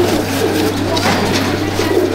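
Pigeons in a pigeon loft coo in low, soft throaty tones, close and continuous over a steady low hum, with people talking nearby.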